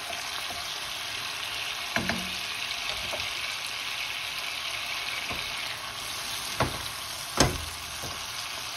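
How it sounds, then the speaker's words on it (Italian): Guanciale and porcini sizzle in a pan as alcohol cooks off, a steady soft frying hiss broken by a few light clinks and stirring knocks. "lasciamo evaporare l'alcol."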